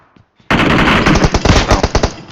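Rapid automatic gunfire in a video game, likely PUBG, a loud sustained burst of closely spaced shots that begins abruptly after a brief quiet moment.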